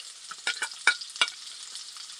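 Onion, garlic and ginger sautéing in a pan, a close sizzle with several quick scraping stirs of a utensil in the first second, then a quieter steady fry; no voices.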